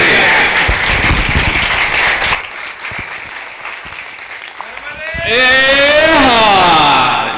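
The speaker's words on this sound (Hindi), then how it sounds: "सब लोग खड़ा होके जी और जोरदार ऐसी ताली बजाई जाए कि पूरे कुंभ में आवाज आना चाहिए" A standing crowd at a Maha Kumbh gathering in Prayagraj breaks into loud, sustained applause, first dense and close, then thinning, before a loud tonal sweep of sound and voice-like wailing rises over it.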